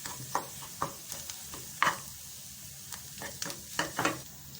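Ground coriander, cumin, fennel and spice powder being stir-fried over medium heat in a pan for potato-filled chili pakora. A soft, close sizzle runs under repeated light scraping and stirring strokes, with no talking.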